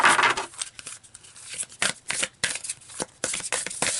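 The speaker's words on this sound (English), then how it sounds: "let's keep pulling more cards and get some advice for you guys" Tarot cards are shuffled and pulled, making close, crisp bursts of riffling and papery flicks in quick irregular clusters with no talk.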